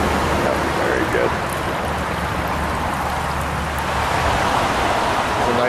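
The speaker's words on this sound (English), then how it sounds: "It is starting to rain." Steady rain falls on a small native trout stream in Pennsylvania, a dense, even hiss of drops and flowing water that stays constant and fairly loud throughout, with a faint voice now and then beneath it.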